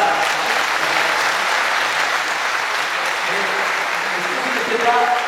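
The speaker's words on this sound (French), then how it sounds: "Allez-y, applaudissez" Audience applause fills the room at a steady, sustained level under faint background voices, a dense patter of clapping from a crowd at a political talk on French defence.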